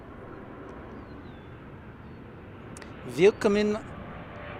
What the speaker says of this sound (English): Here comes the Dreamliner from Frankfurt, Germany.